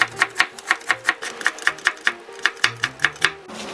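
A knife finely julienning vegetables for kimchi on a cutting board, a quick, even run of about fifteen sharp close chops that stops near the end.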